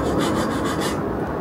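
A hand saw is pushed back and forth through a wooden board by a first-time sawyer at a home DIY project, giving a steady rhythmic rasp of several close, loud strokes.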